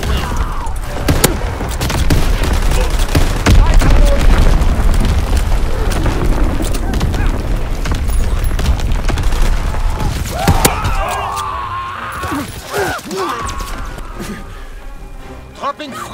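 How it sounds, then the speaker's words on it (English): Fritz X bomb strike in Call of Duty: WWII, sustained heavy rumbling explosions and booms for about ten seconds, loud and dense, then fading into scattered crashes and game voice chatter. "Dropping Fritz X bomb."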